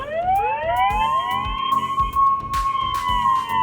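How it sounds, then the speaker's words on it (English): A loud wailing siren rises and holds steady, its tone sweeping upward over a rhythmic low pulsing beat. "he want to make use of that siren kind of sound"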